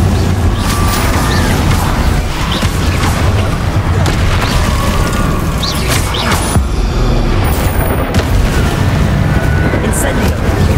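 Incendio fire spell bursts in the video game Hogwarts Legacy: loud, dense fiery roaring and booming blasts rolling continuously without pause, thick with rumble and crackle, with voices faintly mixed in beneath the combat noise.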